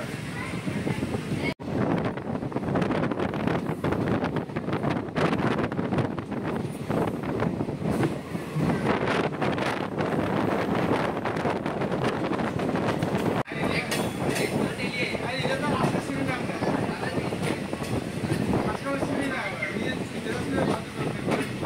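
Passenger train on the Agartala–Sabroom line in Tripura pulls away from Thailik Toisa halt, its wheels and carriages rumbling steadily, up close and loud for a long stretch, with wind buffeting and occasional voices under the noise.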